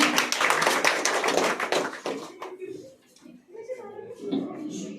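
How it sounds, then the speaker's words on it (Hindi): Audience clapping for Lakshmi at a public gathering in India, a loud, dense burst of many hands for about two seconds before fading into scattered claps and background voices. "बहुत ही शानदार तस्वीर और जोरदार तालियां जो है वो लक्ष्मी के लिए"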